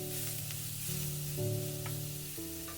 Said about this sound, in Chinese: 再把姜、蒜末、小米辣放入锅中，继续开大火快速的翻炒